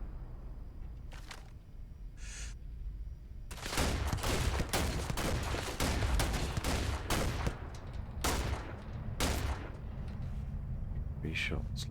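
Rapid bursts of gunfire from a Starfield firefight, starting with a few faint shots, then dense, loud volleys from about four seconds onward, with talk mixed in.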